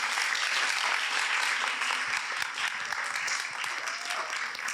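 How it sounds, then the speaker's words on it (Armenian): Sustained audience applause fills a debate hall, a dense steady wash of clapping that carries unbroken from start to finish at an even, fairly loud level. "ծափարենք"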